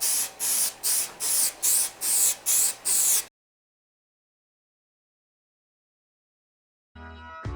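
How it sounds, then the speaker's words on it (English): Spray adhesive hisses onto a one-piece pool table slate in seven or eight short, loud bursts with brief gaps, followed by several seconds of silence and a faint clatter at the end. "You can kind of spray it right where you want it to go"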